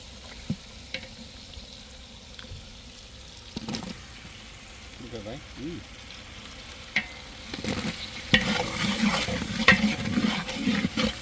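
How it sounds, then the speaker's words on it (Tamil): Potatoes and brinjal sautéing in a pan for a dried-fish curry cooked outdoors on a beach, with a soft frying sizzle and stirring scrapes that grow louder and busier in the final few seconds. "வதக்க வச்ச உருளைக்கிழங்கு கத்திரிக்காய் சேர்த்துங்களா"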